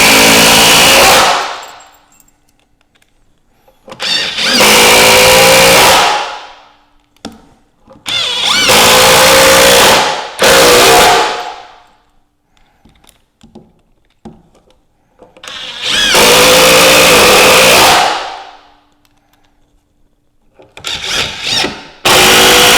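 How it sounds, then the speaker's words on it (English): A Ryobi subcompact cordless impact driver and drill whir in several loud bursts of a few seconds each while building an outdoor bench, separated by near-silence. "This is kind of like a subcompact impact and drill"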